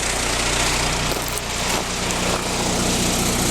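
A 1995 International 4700 truck's DT466 diesel runs at a steady idle, a loud, continuous, rough mechanical drone with no break and no voices over it.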